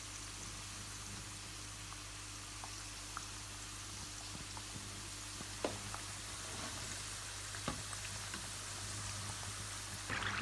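Vegetable samosas frying in hot oil as they are turned to brown on both sides, a steady soft crackle and bubble with a few sharper pops, continuous throughout with no talking.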